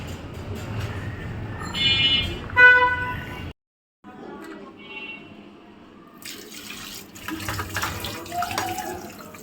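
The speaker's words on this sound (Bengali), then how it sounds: "এখন হচ্ছে একটা একটা করে মাছগুলোকে ধুয়ে নিচ্ছি।" Running tap water splashes over cut fish as they are washed one by one in a home kitchen sink. The close, steady gush stops briefly and then resumes.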